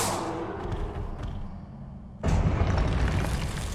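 A Confringo blasting spell goes off in the video game Hogwarts Legacy. A sudden loud boom cuts in partway through and then rolls on as a dense, rumbling blast.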